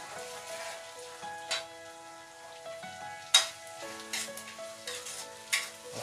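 Onions fry in a pan with a soft, steady sizzle broken by crackles and brief spatters, faint and close, with no voices.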